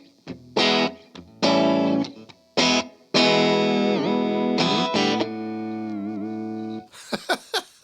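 Distorted electric guitar, a Hamer Steve Stevens SS2 on both pickups, playing sustained chords and single notes with pauses in between, ending in a few short plucked notes.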